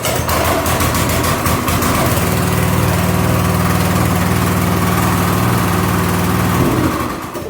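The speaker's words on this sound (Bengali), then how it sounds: "মেশিনটা কিন্তু স্টার্ট হয়ে গেল।" A 3-inch water pump engine kick-starts and settles into a steady, loud running drone close by, its engine note holding evenly for several seconds before easing off near the end.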